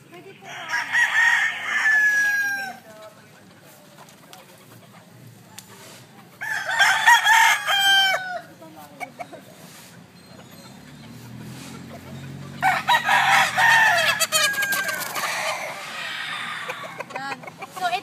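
A cockerel crows loudly three times, with soft clucking and low farmyard murmurs between the calls.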